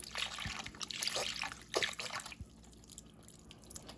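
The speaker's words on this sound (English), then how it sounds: "And I'm gonna use this whole thing of chicken broth." Chicken broth poured from a carton into a pot of great northern beans, a close splashing trickle that fades after about two seconds into quiet drips.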